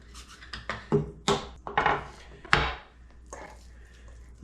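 Rolling pin pressing and packing ground snack stick meat into a jerky gun or stuffer, giving a string of soft wooden knocks and rubbing thumps at an irregular pace, close and fairly quiet.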